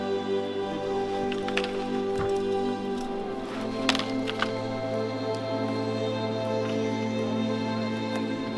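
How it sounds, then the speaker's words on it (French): Steady rain falls during a trek in the Sarek wilderness above the Arctic Circle, a constant patter with scattered nearby drips and taps, heard alone with no voices. "Il pleut."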